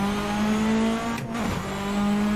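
Citroen Xsara rallycross car at the Subida Jaizkibel hillclimb, its engine holding a loud, steady, close drone that dips briefly mid-run before climbing back to full power.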